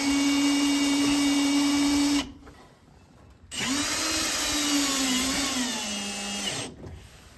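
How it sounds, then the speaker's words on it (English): A power drill drives self-tapping screws into a metal mounting bracket for an auxiliary switch install: two loud whirring runs with a short pause between, the second bogging down and slowing in pitch before stopping, close by with no talk. "Got some self-tapper screws. Go screw that in."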